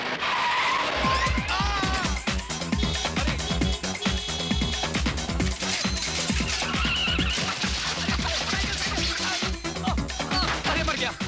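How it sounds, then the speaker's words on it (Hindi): A car driven fast by a young woman, with revving engine and spinning, skidding wheels, loud and busy throughout and layered with a rhythmic film score. "अरे मालकिन, गाड़ी धीरे चलाइए, गाड़ी धीरे चलाइए। अरे छोटी मालकिन, गाड़ी रोकिए, चक्का बहुत तेज घूम रहा है"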